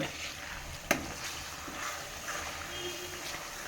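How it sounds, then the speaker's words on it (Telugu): Curry leaves and asafoetida sizzle in hot oil with fried tamarind while a spoon stirs them, a low crackling hiss broken by one sharp clink of the utensil against the pan. "దీని లోపల మనం కరివేపాకు వేద్దాం ఒక రెండు రెమ్మల కరివేపాకు కొంచెం ఇంగువ వేసి కలుపుదాం"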